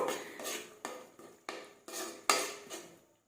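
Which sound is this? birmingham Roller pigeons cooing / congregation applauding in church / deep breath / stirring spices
stirring spices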